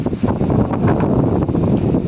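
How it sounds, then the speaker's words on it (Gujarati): Strong storm wind buffets the microphone on a gallery in a loud, continuous low roar with gusty fluctuations. "ઝાડવા લઈ દે એટલો પવન છે"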